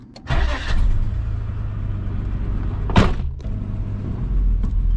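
Neglected Nissan R31 Skyline cranks and fires up close by, a burst of starter and ignition followed by a steady idle, one sharp surge of revving midway, then the idle settling and rising slightly again.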